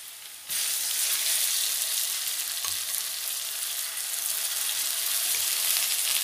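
Garlic paste dropped into a pan of fried onions sets off a sudden loud, steady sizzle that continues evenly, with a few soft stirring knocks underneath.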